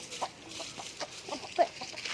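A chicken clucking nearby in short, irregular soft calls over a quiet outdoor background.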